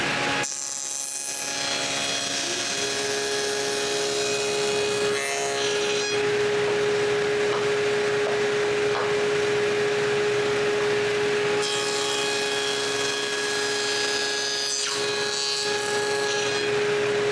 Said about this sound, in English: Then I cut its tenons